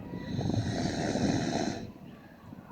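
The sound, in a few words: farm animal breathing heavily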